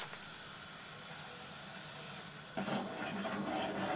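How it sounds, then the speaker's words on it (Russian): A steady hiss of boiling water runs throughout, then a louder rushing, scattering pour of three cups of grain into the water starts partway in, with no talking. "Вот вода закипела. И высыпаем в нее 3 стакана крупы."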